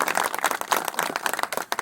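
Dense, steady applause rises from an audience gathered for the inauguration of a village veterinary hospital, many hands clapping at once in a lively, uneven patter with no talking.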